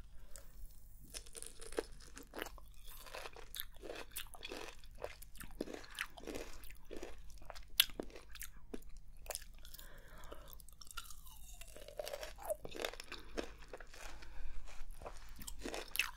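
Close, crisp bites and crunchy chewing of exotic fruit with an edible sweet peel tasting like orange clementine, a steady run of wet crunches and mouth sounds repeating for several seconds with no talking.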